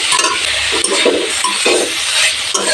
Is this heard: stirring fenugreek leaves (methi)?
yes